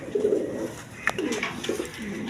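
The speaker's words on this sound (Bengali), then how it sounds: "এখানে এক পেয়ার কবুতর আছে দেখেন" A pair of pigeons kept for sale with a chick and eggs coos softly nearby in a few short, low, rolling calls, with faint clicks and shuffling around them and no talk.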